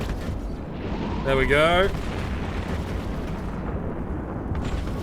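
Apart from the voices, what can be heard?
missile cluster launches and explosions in EVE Online video game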